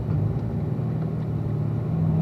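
A car engine drones at a steady mid pitch on a racetrack while braking and downshifting to third, a continuous close rumble with no voices and no sharp rev spikes.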